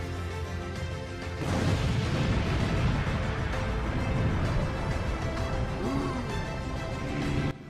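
Atomic bomb blast in a countryball-style World War II animation about Hiroshima: after a brief lead-in, a loud, dense roar of rumbling explosion noise erupts and holds steady for several seconds before cutting off abruptly.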